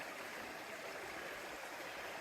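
A creek flows over giant stacked boulders and rocks on a trail at Blackwater Falls, making a steady, broad rushing wash that stays constant throughout.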